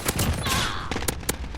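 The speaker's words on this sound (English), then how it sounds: "you are shooting a burst fire" AN-94 assault rifle in Call of Duty Modern Warfare firing in burst mode, a dense run of sharp gunshots followed by a few separated, loud cracks at close range with no talking.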